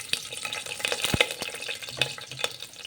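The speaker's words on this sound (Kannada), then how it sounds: "ಚೆನ್ನಾಗಿ ಫ್ರೈ ಆಗಲಿ." Cashews fry in a pan with cloves, cardamom and cinnamon, making a soft, close sizzle with light crackles and stirring clicks over a few seconds.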